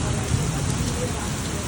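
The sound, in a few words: morning rain falling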